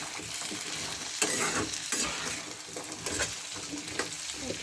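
Green peas and potato pieces fry and sizzle in a pan while being stirred, with soft scraping strokes and a few sharper clinks over a steady hiss, close by and moderately quiet.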